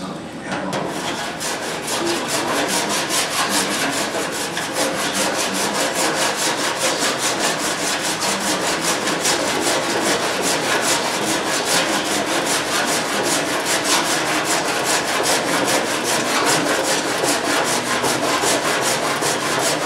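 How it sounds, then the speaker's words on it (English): A hand file worked over a metal slapping spoon, producing loud, continuous rasping strokes in a steady, fast rhythm that run alone for about twenty seconds. "I'll go ahead and just use the file to show my highs and lows"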